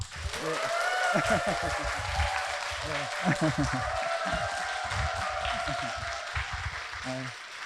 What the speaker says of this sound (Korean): 그러면 일단 박수나 일단 한번 신나게 치고 한번 시작해볼까요?